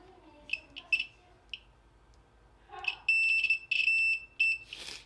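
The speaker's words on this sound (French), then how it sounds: "en mode continuité, normalement ça doit biper" A UNI-T UT125C multimeter in continuity mode gives short, sharp electronic beeps, first a few scattered chirps and then a run of longer sustained tones, close and fairly loud.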